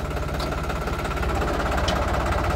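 A New Holland 3600-2 tractor engine runs at high speed, a loud, steady low rumble with continuous mechanical knocking throughout.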